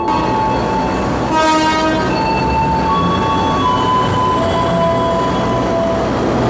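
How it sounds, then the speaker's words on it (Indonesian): An inspection train rumbles steadily through Cirebon station with loud, continuous rail noise and sustained horn-like tones ringing over it. "kereta inspeksi 4-nya sudah bergerak lagi menuju ke arah Jakarta"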